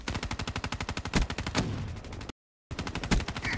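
Rapid sustained automatic gunfire in Call of Duty Black Ops 3 team deathmatch on the Fringe map, a steady fast burst of shots with a couple of heavier hits, broken by a short silent gap before firing resumes.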